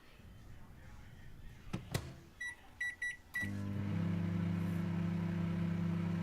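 A microwave oven hums steadily and loudly after a few short electronic beeps and a clunk, its drone filling the rest of the stretch behind a game presentation.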